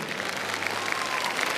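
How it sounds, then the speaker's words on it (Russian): A circus audience at the arena applauds an aerial gymnast, dense sustained clapping from a large crowd at steady volume with sharp individual claps standing out, no talk. "Поддержим его аплодисментами."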